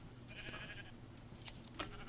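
Sheep bleat in a Minecraft petting zoo packed with sheep, a faint bleat near the start followed by two short louder calls near the end, heard fairly close with no talking.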